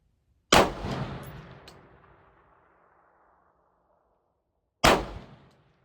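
Two loud rifle shots fired at a distant target on an outdoor shooting range, the first booming and echoing away over several seconds, the second cracking out near the end.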